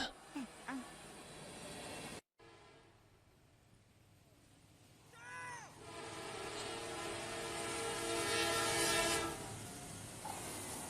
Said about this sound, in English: he didn't see the train coming from the other direction